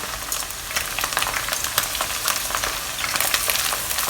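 Honey pork pieces frying in a wok, left undisturbed to form a crust, giving a steady, close sizzle with crackling bursts throughout and no voices.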